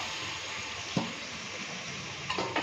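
Atta noodles being stirred and tossed in a pan, a steady soft sizzle with a few brief scrapes and clinks of a spoon against the pan, close and moderately quiet, no voices.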